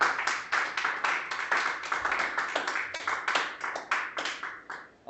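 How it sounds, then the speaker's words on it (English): Clapping for a speaker at a Drupal user group meetup, a small group of hands making rhythmic, slightly uneven bursts, fairly close and alone. "I hope you heard your applause."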